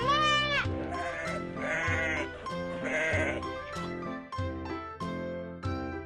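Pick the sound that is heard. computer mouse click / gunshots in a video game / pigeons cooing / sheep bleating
sheep bleating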